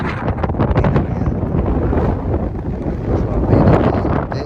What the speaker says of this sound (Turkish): fena rüzgar var. Bazı kelimelerim belki anlaşılmıyordur